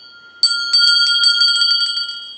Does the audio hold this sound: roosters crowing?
no